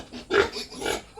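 A pig gives two short, throaty oinks in close succession, fairly near and moderately loud, with faint background noise and no talking.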